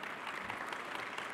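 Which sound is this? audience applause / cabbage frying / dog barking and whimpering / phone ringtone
audience applause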